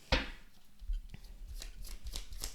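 Tarot cards being shuffled and drawn, with a sharp snap followed by soft riffling, sliding and light taps, close and moderately quiet, with no voices.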